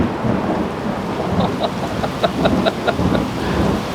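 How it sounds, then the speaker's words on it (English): Thunder following a lightning strike rumbles low and steady through rain, with a continuous rolling roar and faint rhythmic chirps or clucks above it, no talk. "The camera probably even glitched as the lightning hit."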